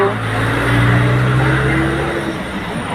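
Road traffic moving along a busy street in Nairobi, Kenya, a loud steady rumble of car and bus engines with a low droning motor note rising slightly and then fading.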